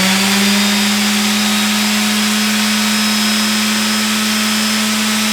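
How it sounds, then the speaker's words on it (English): Power sander running continuously on a wooden deck at night, with a fan also on: a loud, steady whirring drone with a constant hum, no pauses and no voices. "And you're sanding the deck"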